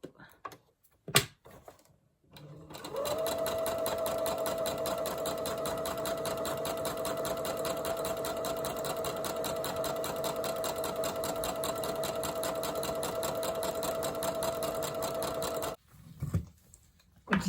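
A sewing machine stitching free motion embroidery on a handkerchief runs steadily and loudly for about thirteen seconds, with a rapid even needle chatter, bracketed by brief handling clicks before and after.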